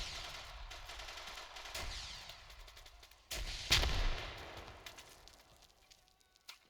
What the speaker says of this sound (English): Oh, they're shooting.